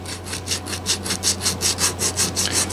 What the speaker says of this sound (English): I just take 80 grit sandpaper and tape it. It's adhesive backed sandpaper, and I stick it to a tongue depressor.